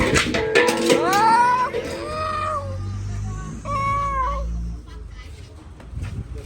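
A cat meows loudly twice, a long rising-falling cry followed by a second drawn-out meow, close by, with people talking around it and a low hum underneath.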